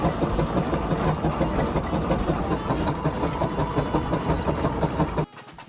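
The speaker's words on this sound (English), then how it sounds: "Can you hear the steady, clanking rhythm of solid cast steel gears grinding softly within the stillness?" Steam engine with cast steel gears running in a steady, fast, even clanking rhythm, loud and close with a constant mechanical drone, cutting off abruptly near the end.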